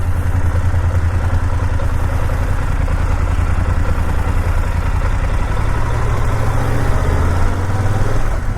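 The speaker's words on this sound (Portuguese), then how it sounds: "O som da moto é muito fixe." A BMW F900GS Adventure motorcycle idles close by with a steady, throbbing parallel-twin pulse and mechanical clatter, running continuously without any talk.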